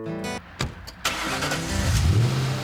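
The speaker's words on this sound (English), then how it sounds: "the Mangusta is Qvale's first car" Qvale Mangusta sports car engine starting with a few sharp catches, then settling into a loud, steady idle with a brief rising rev near the end, close by and without talk.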